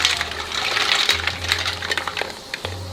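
Fresh mussels tossed into a full seafood boil pot, a brief rattling clatter of shells splashing into water over a steady low burner hum.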